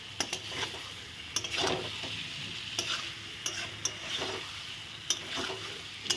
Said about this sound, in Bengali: দিয়ে একটু ভালো করে পটলের সঙ্গে নেড়ে চেড়ে নেব মশলাটা দিয়ে।